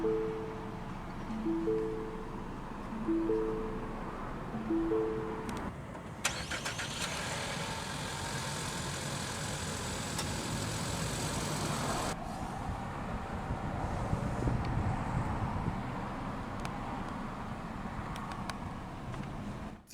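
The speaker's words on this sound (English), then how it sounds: "let's go ahead and start the engine" A 2019 Lincoln MKZ Reserve II with a 2.0-litre engine and front-wheel drive chimes a few times, then push-button starts with a short crank and a loud catch. It settles into a steady, close idle.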